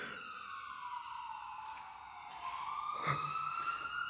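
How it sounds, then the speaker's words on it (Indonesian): An ambulance siren wails continuously in an abandoned hospital, its tone sliding and holding steady, moderately distant and alone. "Suara ambulan, geng."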